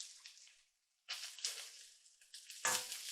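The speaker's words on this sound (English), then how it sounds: "Onions are frying off there, they're very nice." Chicken and onions sizzle and fry in a wok, with bursts of crackling hiss that rise and fall and a brief quiet gap, ending in a louder stirring sizzle close by.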